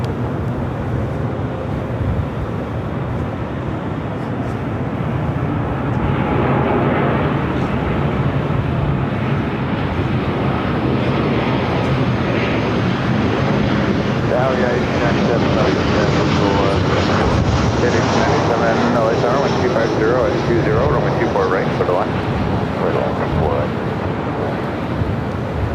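A Frontier airliner takes off from runway 24 left at LAX. A broad jet-engine roar swells after several seconds and holds loud and sustained at a distance, with wind buffeting the microphone.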